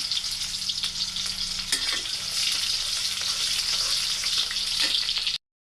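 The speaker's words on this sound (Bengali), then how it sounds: "এইদিকে এই যে চুলার উপরে তেল দিয়ে দিছি এখন দিয়ে দিব হচ্ছে আমি পেঁয়াজ কুচিগুলা" Chopped onions fry in hot oil with a loud, continuous sizzle that swells slightly midway, a couple of sharp utensil taps, then cuts off abruptly.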